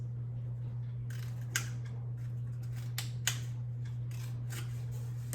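Scissors snip slices into a cardboard toilet paper roll, a few sharp, close clicks and cuts spaced irregularly over a steady low hum.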